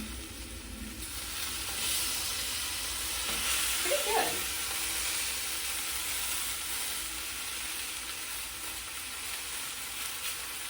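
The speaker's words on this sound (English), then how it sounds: "let me check the other side of this and see if I have a nice sear over here" Apricot-glossed chicken sears in a pan with a steady, loud sizzle that runs throughout, briefly checked near the middle, as a voice speaks a couple of words.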